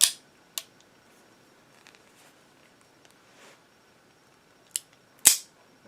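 An empty S&W revolver, either a Victory .38 or a Model 10, is dry-fired in double action, giving sharp isolated metallic clicks of the hammer falling, separated by quieter mechanical ticks and near silence.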